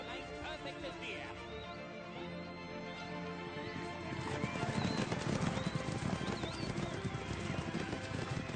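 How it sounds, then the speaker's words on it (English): Racehorses' hooves clatter in a rapid, rising clip-clop, growing louder toward the end, with a horse neighing and crowd or announcer murmur at a racetrack. "The horses are ready."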